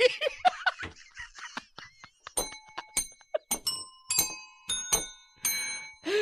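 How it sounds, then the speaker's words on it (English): A small hand bell is rung repeatedly as a green-bell signal on a comedy podcast, with bright, close dings ringing out between bursts of laughter and chatter. "I gotta give an extra ring for the green bell"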